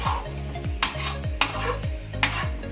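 Thick, sticky rice mixture for suman being stirred in a pan, close up, with a utensil scraping and clacking against the metal in a regular rhythm of strokes every half-second or so, with a faint sizzle underneath.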